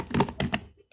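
Typing on a computer keyboard while setting up Android Studio, a few quick clustered key taps and thunks close up, followed by a brief pause and another tap.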